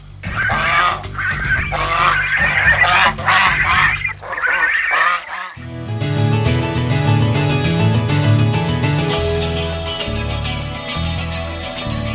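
Geese honk loudly at a farm kept with ducks and chickens, a noisy flock calling over and over. Partway through, the sound gives way to a steady stretch of honking with a more droning quality.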